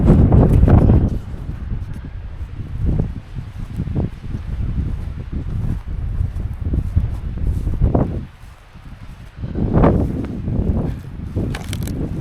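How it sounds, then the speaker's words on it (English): Strong wind buffets the microphone on a Wyoming mountaintop in deep, rumbling gusts that rise and fall unevenly, with no voices. "I know there's a lot of wind up here."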